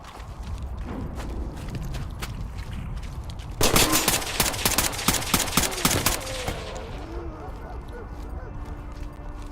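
Gunfire in the video game Terminator Resistance: a dense burst of rapid automatic shots rattles for a few seconds over a constant background hum, then fades back into quieter ambience.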